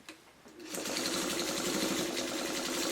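A sewing machine stitches binding onto a quilted pot holder, a steady close whir that starts after a brief pause and runs without break.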